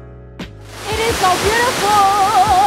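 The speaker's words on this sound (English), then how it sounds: "we're just gonna explore the waterfall and immerse ourselves in that water" Rushing waterfall at Krantzkloof Nature Reserve in KwaZulu-Natal, a loud steady roar of falling water that swells in after a brief quieter start, with faint tonal sounds over it.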